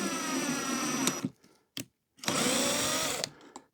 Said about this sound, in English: I'm just going to use a Phillips head screw here just to basically drill a pilot hole